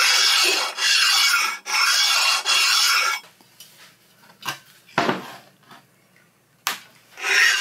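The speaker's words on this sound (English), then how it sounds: "Once the burr's gone, I smooth the corner with the finer grit side of the stone." A sharpening stone is rubbed over the corner of a 7x12 lathe bed, several loud rasping strokes in quick succession, then a quieter stretch with a few shorter scrapes.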